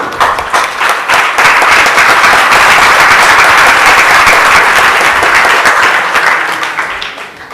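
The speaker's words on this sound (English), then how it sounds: "That got bigger applause than your question." A congregation at a temple lecture breaks into loud, sustained applause, dense clapping holding steady for several seconds before tapering off at the end.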